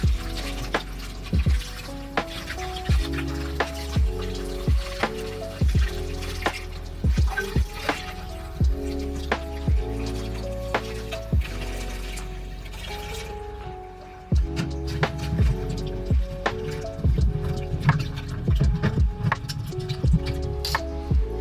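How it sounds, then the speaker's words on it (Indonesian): Soaked food rinsed under a running tap, water splashing and trickling steadily into a bowl or sink with frequent clinks and knocks of handling, close and continuous. "saya akan cuci sekali lagi"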